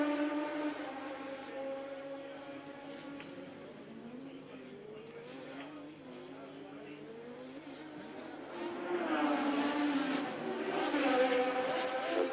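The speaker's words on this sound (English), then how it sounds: "there is Senna overtaking Gugelmin, lapping Gugelmin" Formula One cars on track, one lapping a slower car, their high engine whine rising and falling as they pass, with a commentator talking over it.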